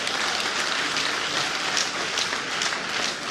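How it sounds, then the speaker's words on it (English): Applause from an induction ceremony audience: dense, steady clapping from many hands, filling the whole stretch at even loudness with no pauses. "Can you then give him another round of applause?"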